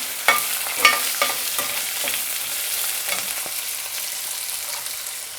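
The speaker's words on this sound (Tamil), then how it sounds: "இப்போ நம்ம நறுக்கி வச்சுருந்த வெங்காயத்தை சேர்த்துக்கலாம்." Chopped onions sizzle in hot oil with fennel and curry leaves for Tamil ennai kathirikkai kulambu. The frying hiss is steady and close, broken by a run of scraping stirs near the start.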